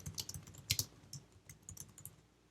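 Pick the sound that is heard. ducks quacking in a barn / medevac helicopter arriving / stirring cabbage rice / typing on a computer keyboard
typing on a computer keyboard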